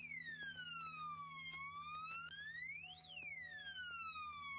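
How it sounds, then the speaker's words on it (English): A door alarm wails in a house with a rising and falling electronic siren tone that sweeps up and down repeatedly over a low steady hum, loud and continuous. "Man, what kind of door alarm is that?"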